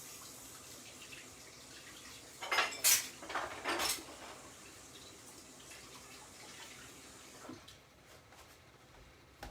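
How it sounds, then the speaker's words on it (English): A running kitchen tap splashes over hands being rinsed, with a few short louder gushes and light clinks of dishes, then a quieter steady trickle. "Rinse my hands again."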